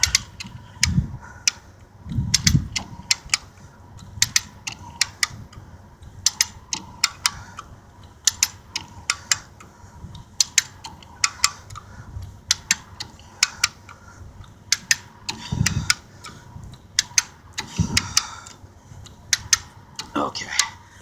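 A hand winch ratchets in a steady series of sharp, close clicks, with occasional low thumps, while hauling an Allegro motorhome out of mud; the clicking repeats for the whole stretch.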